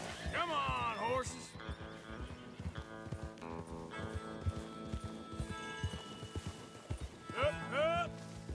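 Several horses galloping in Red Dead Redemption 2, with rhythmic hoofbeats, neighing and whinnies, under shouting and music.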